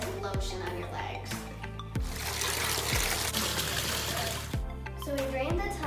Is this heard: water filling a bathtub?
yes